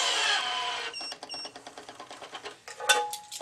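A tennis racket stringing machine pulls tension on two strings at once, giving a short whirring motor burst followed by a series of rapid mechanical clicks and a final brief whine, close and clear.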